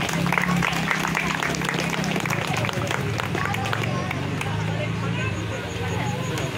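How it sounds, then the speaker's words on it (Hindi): Audience applause for a prize winner on stage at a Ganesh Puja 2024 celebration, steady and dense clapping from a crowd lasting throughout, with some background chatter mixed in. "प्रियदर्शनी के लिए जोरदार तालियां हो जाए।"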